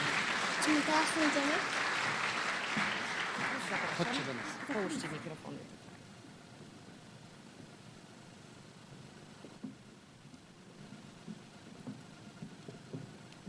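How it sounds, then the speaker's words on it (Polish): Audience applause at a county awards ceremony in Wałcz rises loud for about five seconds, then drops off sharply, leaving faint room noise and scattered quiet sounds. "Zapraszamy, duże brawa."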